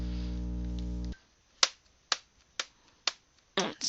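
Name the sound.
tapping a beat, imitating hooves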